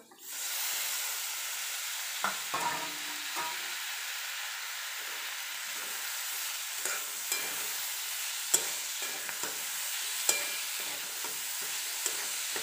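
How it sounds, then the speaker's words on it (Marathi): Tomatoes go into a hot pan for chutney, and a loud, steady sizzle starts at once and carries on under scattered stirring scrapes and taps. "त्यानंतर आपण टाकूयात टोमॅटो."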